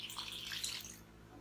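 Warm water pours steadily for a basic white bread dough with salt and yeast, a close hissing splash lasting about a second before trailing off into a quieter hum.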